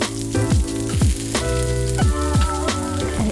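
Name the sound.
garlic and onion stir frying in oil in a wok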